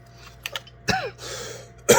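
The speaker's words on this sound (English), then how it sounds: "For some reason I took a coughing fit again" A person coughing in a workshop while swapping chain and sprocket on a Husqvarna 540i chainsaw: a couple of short throat-clearing bursts, then a louder cough at the end, close and with no talk.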